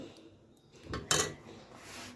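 Prawns coated in masala are tipped into a cooking pot with a ladle, giving a soft scrape and then one brief, bright metallic clatter over quiet kitchen background.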